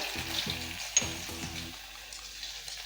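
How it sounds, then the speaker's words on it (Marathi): Torn bay leaf pieces and asafoetida go into hot oil for a prawn masala, giving soft close crackles and stirring scrapes over a low, steady sizzle. "तेल छान तापलेलं आहे याच्यामध्ये मी एक तमालपत्र तुकडे करून घालणार आहे हिंग घालणार आहे"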